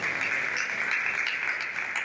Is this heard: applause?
yes